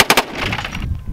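An automatic MP7 fires a short burst outdoors, with several rapid sharp reports at the start, then a dense rumbling echo that rolls on to the end; very loud and close.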